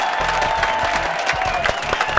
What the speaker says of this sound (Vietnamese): chúng ta dành một tràng vỗ tay của mình tinh thần cho cả hai đội.